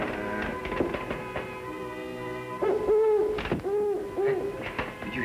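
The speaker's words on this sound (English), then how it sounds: "Oh, Fuzz, it's only a hoot owl" An owl hoots at night in a 1946 western film, a few wavering hoots rising and falling in pitch over a soft musical score, close and clear with no talk over them.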